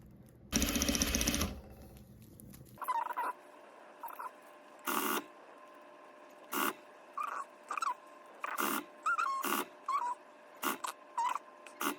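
Sewing machine stitching fabric for a handmade plushie, a loud dense burst of fast stitching followed by a series of short separate stitch runs and pauses, close by with no talk.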